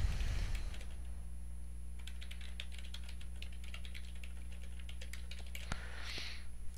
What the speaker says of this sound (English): you need to type in your title.